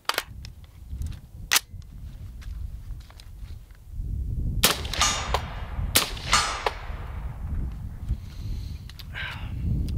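Painted rifle firing 300 Blackout rounds outdoors, with sharp, loud cracks standing out against quieter clicks and handling noises, and a steady low rumble in the background.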